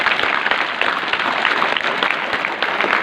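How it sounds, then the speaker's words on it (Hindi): School students in a hall clap together for a teacher, a brief burst of thick, even applause with no voices on top. "जोरदार ताली बजाओ सर के लिए।"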